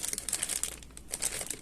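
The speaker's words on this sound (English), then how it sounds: "Comes in a plastic bag" A plastic bag crinkles and rustles close up as a Shimano Stradic FL 1000 fishing reel is unboxed, with quick irregular bursts of crackling that ease briefly before picking up again.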